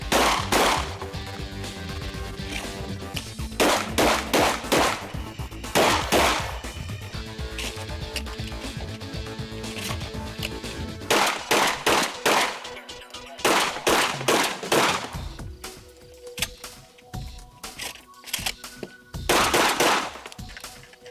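Rapid volleys of gunfire during a stage run at the 2004 USPSA MultiGun Nationals, loud close bursts of quick shots in repeated clusters separated by brief pauses, with a few sparser shots toward the end.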